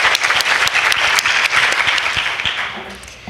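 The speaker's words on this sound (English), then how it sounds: "One more round of applause for Christina." Workshop audience applauding a speaker after she shares her story, a close, loud burst of crisp individual claps that thins and fades toward the end.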